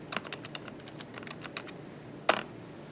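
Quick keystrokes on a computer keyboard as a username and password are entered, a burst of close, light clicks in uneven rhythm, a pause, then one louder key press.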